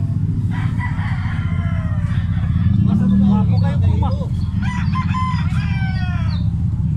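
A rooster on a farm crows loudly nearby, several drawn-out calls with clucking between them, over a low engine rumble while someone talks throughout.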